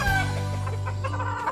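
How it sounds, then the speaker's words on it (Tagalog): A hen on a farm in La Union clucks close by, one drawn-out, throaty call that starts loud and then fades out, with no voices over it. "Ba't pumuputak?"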